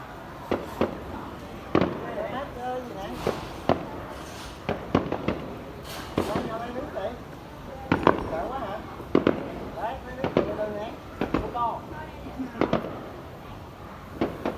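A New Year-style fireworks display for Vietnam's 2 September 2019 National Day, including bursts over the Landmark tower, booms and crackles repeatedly at irregular intervals while nearby spectators chatter excitedly throughout.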